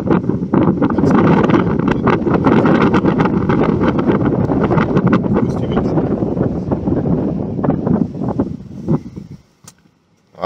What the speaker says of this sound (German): Ich mache mal kurz hier das Fenster runter, damit ihr ein bisschen mitkriegt vom Wind.